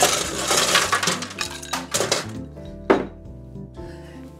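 Ice rattles hard inside a cocktail shaker during a salt-and-pepper martini. The bursts are loud and dense for about two seconds, then a few scattered clinks follow, close up and without speech.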